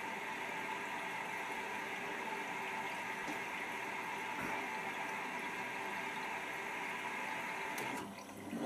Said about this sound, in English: Heater kicks in and now you'll see the difference in the wash action.